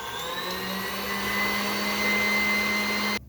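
An electric stand mixer beats buttercream frosting with a loud, steady motor whir and high whine, running continuously up close before cutting off abruptly at the end.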